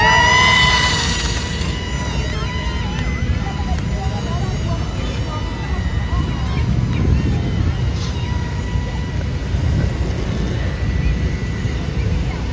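A 2-channel RC airplane's electric motor whines as it takes off from a runway, loud at first and then settling into a steady, buzzing drone, with a voice talking over it.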